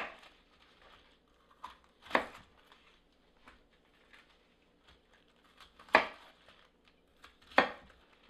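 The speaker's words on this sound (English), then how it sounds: "and then we have this bok choy. We also do the same thing. We cut in the middle." A knife chopping bok choy on a cutting board in a home kitchen, sparse crisp thuds at irregular intervals with a few louder strikes, close and quiet, with light handling noises in between.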